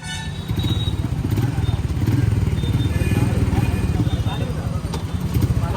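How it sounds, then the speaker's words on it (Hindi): Many motorcycle engines rumble steadily at a BSP political bike rally in Telangana's Jagtial district, a dense continuous drone close by with clatter and a crowd of voices talking over it. "आरएस परवीन भी गाड़ी छोड़कर बाइक पर सवार हो गए और इस तरह शुरू हुई बीएसपी की बाइक रैली"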